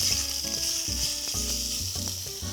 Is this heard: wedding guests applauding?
no